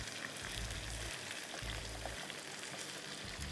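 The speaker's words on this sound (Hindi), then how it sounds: "अच्छा, अब हमारी चिकन फ्राई हो रही है।" Chicken fries in a little oil for Balochi karahi, a soft, even sizzle heard at low level with a faint low hum underneath.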